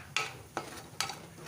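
Masala for a minced meat and beans keema fries in oil while being stirred. Three evenly spaced scraping strokes of the spoon sound over a low, steady sizzle, close up and with no voices.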